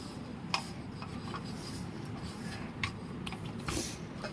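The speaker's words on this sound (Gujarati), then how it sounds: "લોટમાં તેલ ચોંટાડી દઈશું. આ રીતના બધું સરસ મજાનું મિક્સ કરી લેવાનું છે." Oil worked into wheat flour dough for crisp bhakri, heard as a close, steady soft rubbing and kneading sound with occasional light taps, no talk.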